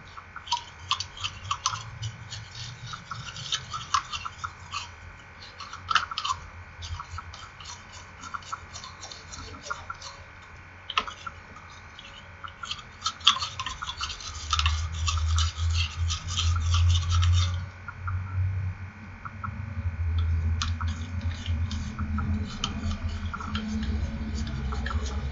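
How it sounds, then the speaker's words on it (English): Toothbrush scrubbing the inside of the upper teeth, gums and palate, a close, steady wet scratching with uneven rhythm that grows denser and louder toward the end. "brushing the upper teeth and gums inside, right, front, and left,"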